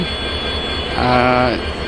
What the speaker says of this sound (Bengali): দুপুরের ট্রেন আন্তনগর কপোতাক্ষ এক্সপ্রেস যেটি প্রায় বিশাল এক রেক নিয়ে চলে আর এই হচ্ছে আজকে রাজশাহী রেলওয়ে স্টেশনের অবস্থা